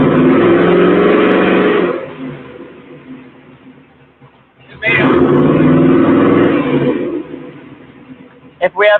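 A car engine revs hard in two long bursts separated by a quieter idle, close and loud, during a class session, with a couple of short sharp blips at the end.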